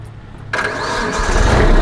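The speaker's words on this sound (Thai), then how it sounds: "เครื่องติดง่ายนะครับ" A Kubota tractor's diesel engine cranks and catches after a quiet moment, then settles into a steady, loud nearby idle with a deep low rumble.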